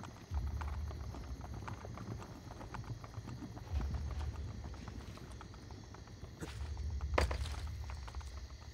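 Horse hooves clopping in Assassin's Creed Brotherhood, a steady walking rhythm of hoofbeats over low game ambience with a few louder thumps, moderately close and without speech.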